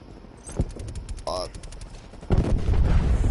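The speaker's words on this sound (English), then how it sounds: "Sending frag grenade." Call of Duty Cold War beta gameplay with a frag grenade thrown amid combat: scattered gunfire and game noise, then a sudden loud broadband blast that rumbles on to the end, with voices faintly under it.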